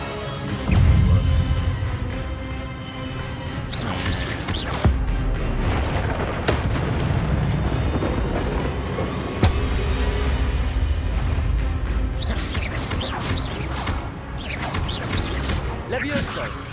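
Repeated Incendio fire spells burst in Hogwarts Legacy, with heavy booming blasts and crackling impacts rolling through a dense, loud game battle backed by music and effects, a few sharp hits standing out.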